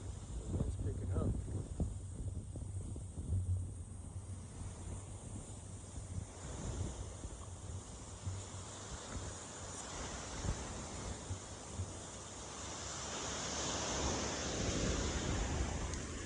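Wind sweeps across an outdoor hillside in Puerto Rico, a sustained low rushing roar that buffets the microphone in gusts and swells louder toward the end.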